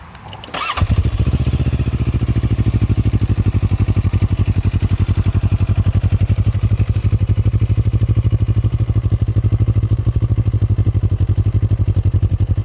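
A CFMoto 700 CL-X Sport motorcycle engine cranks and catches, then settles into a loud, steady, throbbing idle that continues evenly with no one speaking.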